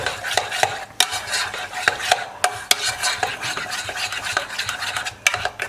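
Gruyere cheese stirred into a bechamel as it becomes Mornay sauce, a spoon scraping and clinking against the pan in a steady, close rhythm with sharper knocks throughout, no voices.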